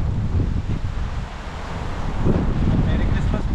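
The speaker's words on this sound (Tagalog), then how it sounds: "Lipan ka ng hangin, lamig." Cold wind buffets an outdoor spot, a rough low rumble of gusts over the microphone that swells and eases, with a faint voice or background sound briefly underneath.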